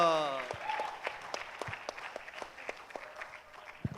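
Audience applause for stand-up comedian Kak Duto at a comedy show, a modest, scattered round of clapping with distinct individual claps and some voices mixed in, fading unevenly over a few seconds.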